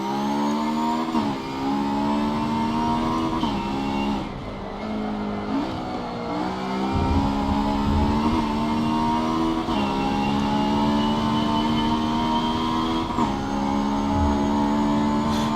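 A Honda S2000 engine revs hard through the gears, its steady rising whine broken by brief dips at each shift, loud and close throughout with no talking.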